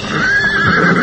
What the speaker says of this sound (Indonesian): tiba-tiba saja telinganya menangkap langkah beberapa ekor kuda